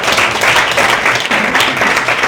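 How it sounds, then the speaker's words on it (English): A large audience at a digital marketing skills program's final day breaks into sustained, dense applause welcoming a speaker, a steady loud wash of many hands clapping that fills the whole stretch. "So let us give him a huge round of applause."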